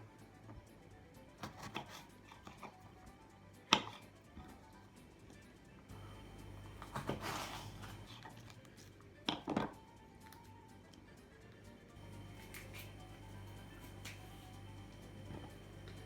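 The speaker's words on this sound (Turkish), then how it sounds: "Şimdi biberlerimizi doğrayalım." Peppers being cut into julienne strips on a board for curry sauce chicken, a few sharp knife knocks scattered through a quiet, close kitchen with low background hum.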